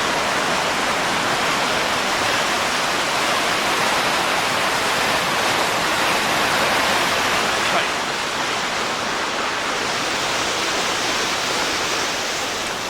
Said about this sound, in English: Here's the water coming out of Blue Marsh.